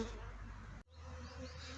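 Dense buzzing of many honey bees at a small hive close by, steady and loud, with a brief dip before the swarm hum resumes.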